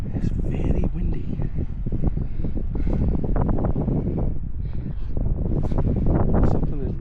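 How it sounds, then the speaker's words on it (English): Gusty wind on an exposed step at Tantallon Castle in East Lothian, Scotland, buffeting the microphone in steady rumbling bursts for several seconds, with people talking close by. "that step where that woman, the ghost of the woman, is seen, is very windy"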